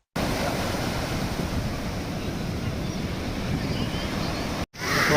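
Sea waves surging and washing onto Mypad beach on the Bay of Bengal, a continuous loud roar of surf with wind buffeting the microphone, briefly cutting out near the end before resuming.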